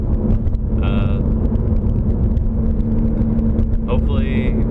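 A car drives along a road on the way to a hardware store, a loud, steady interior engine and road rumble with a persistent low hum, while a person talks over it.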